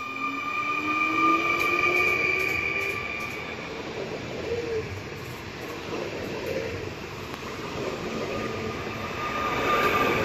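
Koleje Śląskie 22WE electric multiple unit train arrives at a small passenger stop, a loud rolling rumble with rising and falling wheel noise and a high squeal that swells, fades, then builds again.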